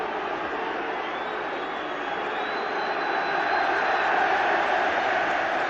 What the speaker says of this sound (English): And the great applause is because Doyle is going to be booked.